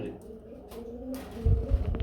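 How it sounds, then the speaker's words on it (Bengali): Cooing of short-face pigeons, a cream-coloured breeding pair, low throaty coos swelling near the end of the clip over faint background sounds and distant murmuring voices. "শর্ট ফেস শর্ট ফেস কবুতর খুবই সুন্দর একটা কালার"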